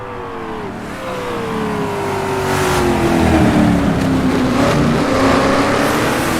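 In Assetto Corsa, a race car at Mont-Tremblant circuit, chasing a McLaren, accelerates hard. The engine note climbs steadily in pitch, loud and close, over constant road and wind rush.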